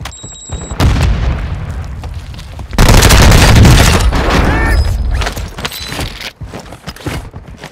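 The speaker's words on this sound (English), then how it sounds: "Throwing grenade!" Grenade blast in Call of Duty Warzone 2, a loud boom after a brief quieter stretch, followed by a long rolling rumble and scattered crackling debris.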